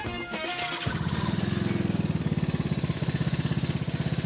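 An engine cranks briefly and catches, then settles into a steady, throbbing idle with a soft, muffled pulse, heard close up with no voices.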